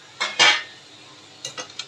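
A spoon scrapes and clinks against a metal pan while stirring stuffed okra with a little water, giving two quick metallic scrapes followed by a few lighter taps after a pause, close and clear.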